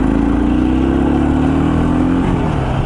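A Kawasaki KLR 650 motorcycle fitted with an Eagle Mike needle kit accelerates hard from a start, its single-cylinder engine droning loud and close as the pitch climbs and then shifts near the end.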